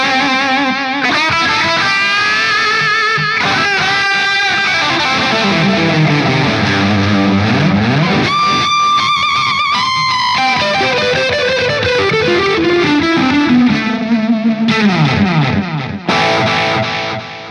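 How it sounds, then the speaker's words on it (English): Electric guitar through a Crazy Tube Circuits Sidekick Jr pedal's tape delay mode, with saturated, warbling repeats trailing sustained chords and swelling melodic lines, loud and continuous with no talk. "Press it in, and you get a tape delay."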